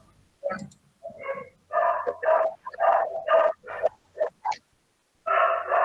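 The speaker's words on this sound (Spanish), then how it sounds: "no son mis perras las que están ladrando" Female dogs barking nearby, a run of loud, repeated barks and yips in uneven bursts with short pauses, heard during an online class presentation.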